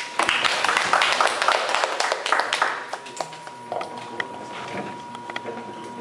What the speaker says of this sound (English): please give the big applause